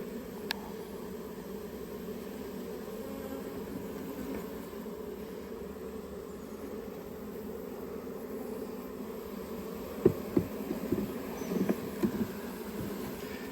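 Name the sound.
buzzing of lost honey bees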